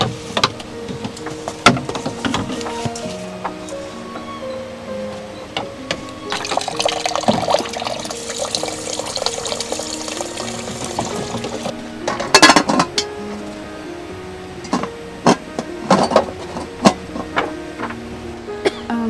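Water fetched and poured into containers, with splashing and filling noise plus sharp clinks and knocks of vessels, moderately near and running throughout with no talk.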